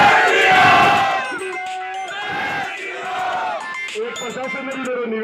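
A protesting crowd chants Jai Shri Ram slogans in unison, loud rhythmic shouted phrases rising and falling in waves, close and energetic with many voices together.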